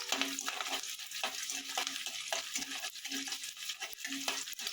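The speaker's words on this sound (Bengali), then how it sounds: "এভাবে একটু লালচে লালচে করে রসুন আর কাঁচা লঙ্কাকে ভেজে নেবেন।" Garlic, ginger and green chili frying in oil, a continuous crackling sizzle punctuated by regular scraping strokes of a spatula stirring in the pan, close and without talk.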